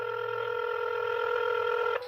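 A telephone call being dialed and ringing: a steady electronic ring tone with layered harmonic pitches holds loudly, then cuts off abruptly near the end.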